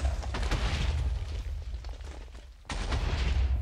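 Cartoonish bomb blasts from the Mineplex Bomb Lobbers arcade minigame, a dense run of overlapping booms and pops that keeps up throughout, thinning briefly before another loud burst.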